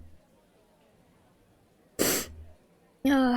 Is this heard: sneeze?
yes